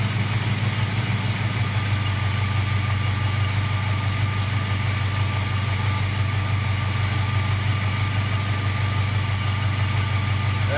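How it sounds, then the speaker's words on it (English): A 1978 Chevy C-10's carbureted engine idles with its curb idle set slightly high, a faint clatter in the bottom end, making a steady, close, low rumble that runs evenly throughout without any talking. "so now I'm going to set the curb idle just a little bit high right now"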